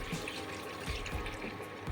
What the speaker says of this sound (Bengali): আমি এখানে পেঁয়াজ রসুন বাটা মিক্সি ধোয়া জলটা দিয়ে দিচ্ছি